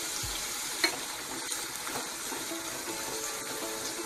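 Salted water is poured into potato chips frying in virgin coconut oil, giving a steady, bright crackling sizzle with a few faint pops, close and continuous with no voices.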